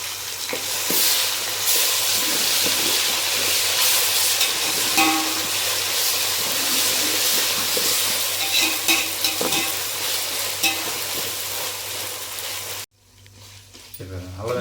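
Ginger paste fries and is stirred in a pan for mutton pulao, giving a steady, loud, dense sizzle throughout that cuts out abruptly near the end, with occasional scraping of the spoon.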